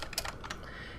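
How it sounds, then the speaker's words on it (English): Quick bursts of typing on a computer keyboard, a handful of close, light key clicks in a short uneven run, fairly quiet. "you can copy whatever I'm typing in here"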